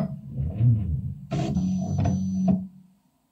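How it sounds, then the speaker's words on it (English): A pick-and-place machine with a nozzle changer picks up tip 502 on nozzle 1, giving a low motor whir followed by a brighter mechanical buzz of two short servo moves that end with a click, heard alone and close by. "I will try to load the nozzle tip 502 on the nozzle in 1."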